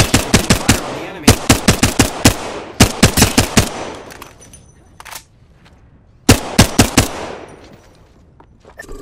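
Rapid bursts of automatic gunfire in the battle royale video game Apex Legends, several clustered volleys of sharp loud shots separated by brief pauses, with a faint voice briefly present.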